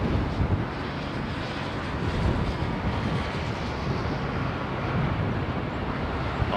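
An airliner arrives at Heathrow in windy weather, a loud, steady, broad roar close to the microphone with buffeting wind mixed in and no clear voices.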